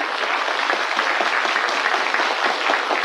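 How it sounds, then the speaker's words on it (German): A studio audience at a German quiz show applauds the candidates, dense steady clapping throughout, loud and close with no talk over it. "Beifall für unsere Kandidaten."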